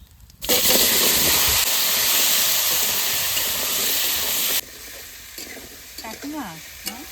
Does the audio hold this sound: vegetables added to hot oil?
yes